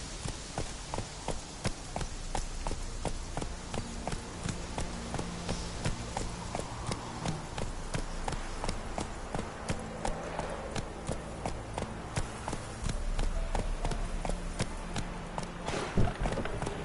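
Roach, the horse in The Witcher video game, walks with a steady, even clip-clop of hooves that repeats at a regular pace, moderately close, over a soft continuous background.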